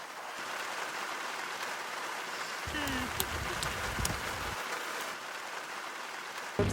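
Heavy rain in the Trossachs, Scotland, a steady close hiss that holds evenly throughout, with a brief louder splatter near the end.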